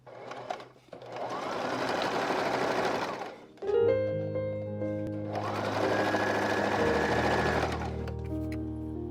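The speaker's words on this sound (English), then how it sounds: "So let's start sewing." A sewing machine stitches cloth table napkins in two steady, whirring runs separated by a short pause. A brief tonal hum fills the gap before the second run.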